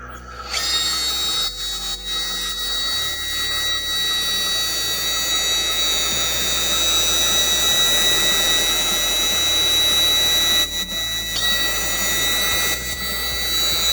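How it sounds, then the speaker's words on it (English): The hydraulic lifting arm of an all-metal 1/14 scale RC Tatra T815 8x8 runs with a continuous high-pitched electric pump whine and a steady low hum. The whine is close and constant, with brief dips in level. "Then, we will start the self-unloading lifting device for operation."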